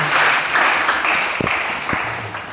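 A church congregation breaks into steady, dense applause for the Lord, many hands clapping together close by and slowly tapering off, with a few louder claps standing out.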